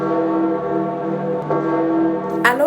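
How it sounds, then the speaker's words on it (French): Church bells of St. Peter's Basilica ringing for a papal funeral, a sustained resonant tolling with a steady hum of overtones, heard alone and fairly loud. "les cloches de la basilique Saint-Pierre ont longuement sonné"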